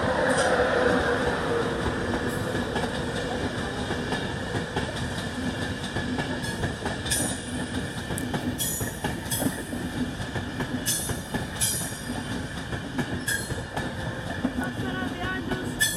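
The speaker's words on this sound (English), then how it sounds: "Transpennine Express over there." TransPennine Express train moving through Durham station, a steady rumbling roll with rhythmic wheel clatter and faint high squeals, close and continuous throughout.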